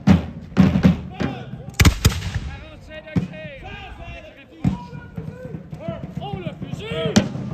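Musket fire crackles at a historical reenactment in Vaudreuil-Dorion, with loud irregular booms and pops, some close and some farther off, among shouting and commands.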